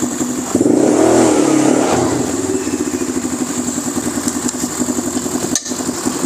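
A G-Force 200cc 4x2 ATV engine runs close by, revving briefly after starting and then settling into a steady pulsing idle with a high whine.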